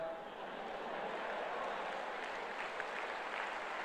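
An audience at a speech by Gyanvatsal Swami claps, a faint, even wash of many hands heard at a distance, steady without swells for several seconds.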